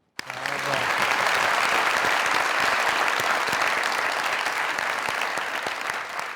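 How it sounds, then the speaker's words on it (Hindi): Loud, sustained applause from a large studio audience at a comedy talk show, starting abruptly and continuing steadily throughout with dense clapping. "उसके लिए एक दफा फिर से तालियां"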